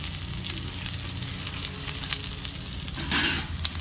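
Dry fish (karuvadu) sautéing with tomatoes in a hot pan gives a loud, continuous sizzle and crackle, with spatula scrapes and a brief louder hiss near the end, no talking.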